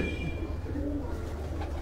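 Pigeons kept by a fancier coo softly nearby, a low murmuring warble over a steady rumbling background.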